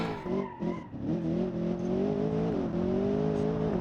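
A luxury grand tourer in BeamNG.drive brakes hard into a turn, its tires skidding in a long, wavering squeal over the engine for several seconds, close and loud, with no voices.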